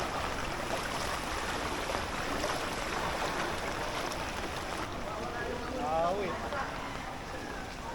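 Steady rushing water of an overflowing river swollen by Typhoon Carina fills the scene continuously, a broad wash of flowing current with faint chirps appearing near the end.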